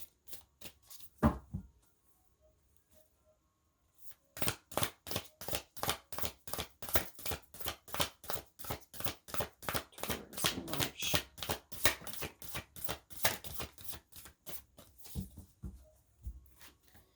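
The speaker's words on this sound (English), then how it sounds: "Let's get an oracle card here to start with." A deck of oracle cards is shuffled in a rapid, steady run of crisp riffling strokes after a few opening taps, fairly faint and close, without talk.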